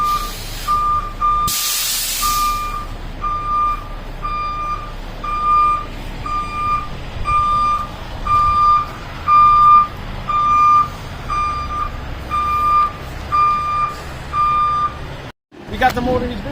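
A truck reversing while unloading a Toyota 3S-GTE engine, steady high reversing beeps repeating throughout after a brief air-brake hiss, with engine rumble and people talking nearby.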